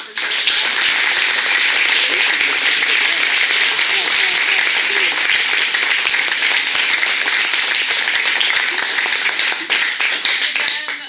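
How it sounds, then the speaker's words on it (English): Loud, dense applause from the audience at a Seattle City Council District 1 candidates' forum in South Park, steady and sustained throughout, with no voices standing out. "I want to go ahead and give a warm welcome and round of applause to these guys"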